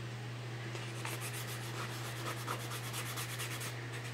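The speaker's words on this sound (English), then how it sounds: "I'm going to take my disinfectant wipe, and I'm just going to see if I can get this cleaned off." A disinfectant wipe scrubbing a dry plastic garden flower pot, close and steady, with rapid rhythmic back-and-forth rubbing strokes over a low constant hum, no talking.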